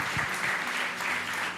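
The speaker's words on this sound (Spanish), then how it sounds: "Démosle fuerte, fuerte ese aplauso al Señor." A church congregation claps for the Lord during a Spanish-language worship service, a short, dense burst of steady applause filling the room with no voices standing out.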